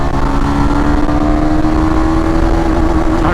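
A Benelli 165S motorcycle's engine revs hard and steadily in a sustained, loud, close drone as it accelerates through the gears during a speed test, with no talk over it.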